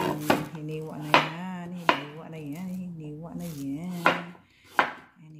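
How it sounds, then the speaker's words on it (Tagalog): A knife chops through kalabasa squash on a board in a home kitchen, giving sharp, close individual strikes at irregular intervals while tonal noise runs underneath. "Hiwain ang kalabasa."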